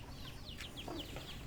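Backyard chickens clucking softly, a few short repeated calls at a moderate distance over a faint steady background, no voices.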